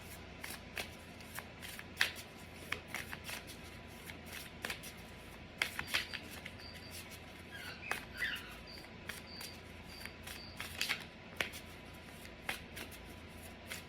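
A tarot deck is shuffled by hand, with crisp, repeated riffles and card flutters in irregular bursts over a faint steady room hiss, close and alone without talk.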